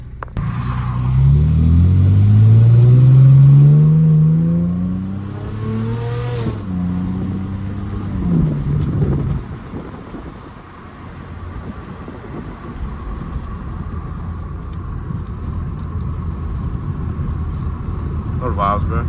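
A straight-piped, tuned Mercedes W204 C350 pulling away, its exhaust rising in a loud revving sweep then settling into a low rumbling drone as it drives off, with talking over it.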